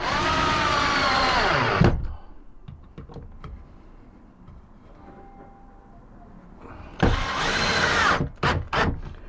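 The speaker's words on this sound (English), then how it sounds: "then we should just be able to screw that in." A power drill drives self-countersinking screws into wood while a seat is built for a Peugeot Boxer L2 H2 camper van conversion, two loud whirring bursts at the start and end with quiet handling clicks between.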